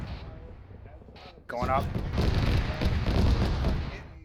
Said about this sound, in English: That sounds like a fucking auto cannon